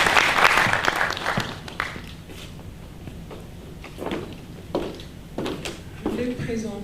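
Applause from an audience at a Christian literature fair in Kinshasa, a loud burst of clapping at the start that fades into scattered claps and talk.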